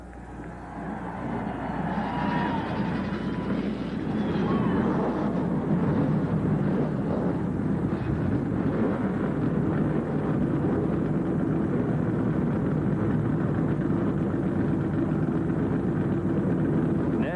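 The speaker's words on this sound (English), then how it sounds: "Gentlemen, start your engines." NASCAR stock car engines start up at Watkins Glen in 1989, a swelling many-engine roar that builds over the first seconds into a sustained, dense rumble heard from a distance.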